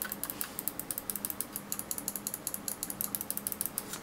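A steady run of small, crisp clicks about six or seven per second from the side buttons of a G Wolves HTS Plus 4K mouse with Zippy 60 switches, close up and alone, with a faint background hum.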